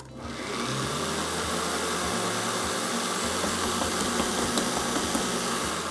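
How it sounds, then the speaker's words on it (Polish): An electric hand mixer churns through a thick savoury spread with a loud, continuous whirring drone, its low hum dipping and labouring as the beaters bog down. "Już wiem, dlaczego był ten na promocji mikser."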